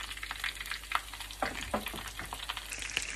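Ham and cheese nori rolls fry in a little hot oil with a soft, continuous crackle, close by, marked by small bursts of spitting and the scrape of a utensil.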